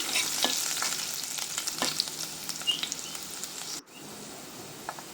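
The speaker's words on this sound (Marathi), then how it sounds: "5-6 लसूण पाकळ्या बारीक चिरून घाला व गुलाबी रंगावर फ्राय होऊ द्या." Finely chopped garlic fries in hot oil with asafoetida for a dal tadka, a dense crackling sizzle with spatula stirring that drops to a softer, steady hiss near the end, with no talk.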